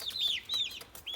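Young Americana chicks, about four weeks old, chirp and cluck in a brooder, giving a few short, clear, close peeps in quick succession over quiet background.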